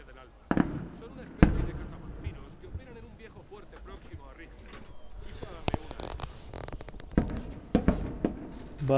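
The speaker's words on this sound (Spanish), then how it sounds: "están con los petardos por aquí" Scattered sharp bangs of firecrackers pop at irregular intervals, some close and loud, others fainter, while a person talks over a quiet background.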